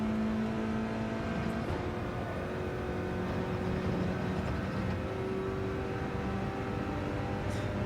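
Front-wheel-drive race car engine in Gran Turismo 7 racing at a chicane, a steady droning whir with shifting pitch and brief rises, no talk.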